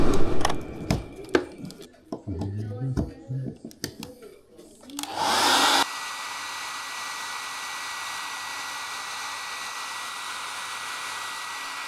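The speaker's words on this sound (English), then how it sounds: "we've got the fan here, we've got that hairdryer" A hair dryer switches on partway through to dry a drywall patch and keeps up a steady, loud whooshing drone after several seconds of clattering and brief talk.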